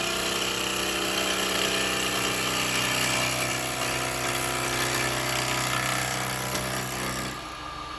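A 5/8 inch spindle gouge cuts wood on a spinning lathe, a loud steady hum and scraping drone that runs without a break before easing off near the end.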